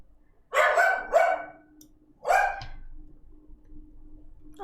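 A dog in a video game lets out three sharp barks, two quick ones close together and then a third after a short pause, loud and near against a quiet, faintly humming background.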